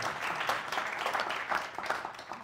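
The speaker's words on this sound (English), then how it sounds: "why don't you give yourselves another round of applause" An audience at a talk applauds itself, a continuous crackle of many hands clapping at moderate loudness that swells and dips slightly but never stops.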